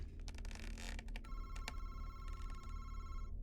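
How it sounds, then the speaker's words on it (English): A telephone rings in the horror video game MADiSON, a shrill electronic ring with sharp bursts against a low background hum. "Oh, the phone's ringing."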